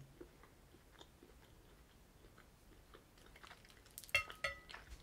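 Someone chews a Lindt Lindor chocolate truffle from an assorted selection tin, with faint soft mouth sounds at first and then a few louder, sharper crunchy bites near the end, close to the mic.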